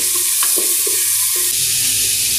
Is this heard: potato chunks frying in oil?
yes